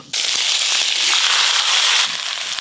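Cubed potato and papaya pieces dropped into hot oil with a five-spice tempering, giving a loud, steady crackling sizzle that starts abruptly and holds for a couple of seconds.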